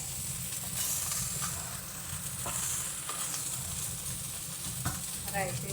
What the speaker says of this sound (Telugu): ఉల్లిపాయ వేగుతుంది కదా